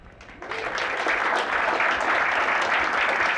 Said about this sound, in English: please give a big round of applause for our 9 startups